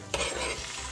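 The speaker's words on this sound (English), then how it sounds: "go ahead and add my natural seasoning" Seasoning hitting a hot pot for Jamaican steamed fish, with a sudden sizzle that continues as a steady hiss while it is stirred, close and fairly quiet, with no voices.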